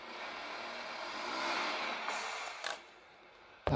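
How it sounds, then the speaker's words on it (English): The buzzing vibration motor and its fan on a Tamiya MFC-03 RC truck whir continuously and fairly loudly, swelling slightly in the middle before dropping off, with a short click near the end. "That annoying vibration motor with the fan on it."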